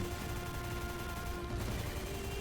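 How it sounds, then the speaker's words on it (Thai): A pink gun fires steadily in the game XSHOT, heard as a dense, continuous stream of shots with a constant hum running underneath, loud and unbroken, with little else audible. "ดี๋ยวผมก็เอาปืนนี้มายิง"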